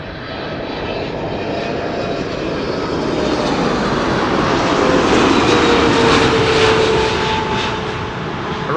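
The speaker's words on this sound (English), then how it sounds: "Qatar Cargo, Flight 8917. 777 freighter." A Qatar Cargo Boeing 777 freighter landing at Amsterdam Schiphol after a flight from Panama City: loud, close jet engine roar swelling to a peak midway, then easing, with whining tones sweeping through the rumble.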